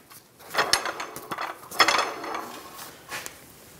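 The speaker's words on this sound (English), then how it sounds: "Remove the pull jack." A jack being pulled out from under a 2004-2009 Toyota Prius during catalytic converter replacement: metallic clanks, scrapes and rattling clatter in a few close bursts, with no talking.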